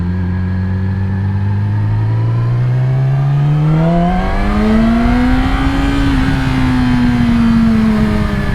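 A 2017 Yamaha R6 motorcycle accelerates hard in first gear, its engine note climbing steadily in a loud, smooth rising whine that peaks and levels off near the rider.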